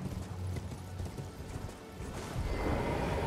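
Horse hooves clip-clop steadily in the video game Elden Ring as the mount travels near a lake and cave, a moderately loud continuous trot with a brief dip before picking up again.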